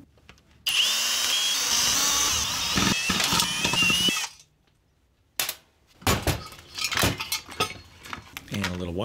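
A power drill backs out screws while an Instant Pot is stripped for scrap metal, with a loud whirring run of several seconds, a pause, then short bursts and clattering handling.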